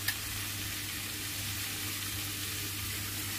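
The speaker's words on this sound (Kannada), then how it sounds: "ಈಗ ನೋಡಿ ಸ್ವಲ್ಪ ಎಣ್ಣೆ ಹಾಕ್ತಾ ಇದ್ದೀನಿ" Oil sizzles steadily in a pan under a tomato dosa, a continuous even hiss with no voices heard.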